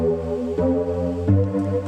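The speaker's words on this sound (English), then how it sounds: "it's just a square wave with the high frequencies cut off by a low pass filter" Synth bass built from a square wave with the highs cut by a low-pass filter, widened with a chorus-style dimension expander and layered in two octaves, playing sustained buzzy low notes that change pitch twice, heard alone.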